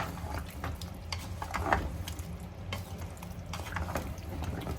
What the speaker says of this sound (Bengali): এখন এটাকে আমি নেড়ে চেড়ে রেখে দেবো